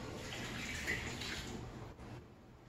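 Water pours steadily into a pot for homemade apple pie filling, a soft continuous splashing stream lasting a few seconds at close range, then cutting off.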